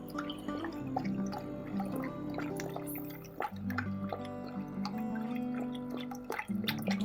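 A Sunsun aquarium filter churns water with steady dripping and splashing over a low mechanical hum, continuous and close.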